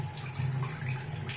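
Small amount of water taken up and applied to dry hair while curling it at home, a brief, close, soft trickling splash with no talk.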